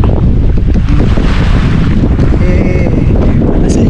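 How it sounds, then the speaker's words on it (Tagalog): Strong wind buffets the microphone at a seaside beach in Zambales, a loud steady roar with surf and water noise blended underneath, continuous throughout. "Look, the wind guys! Look, the wind!"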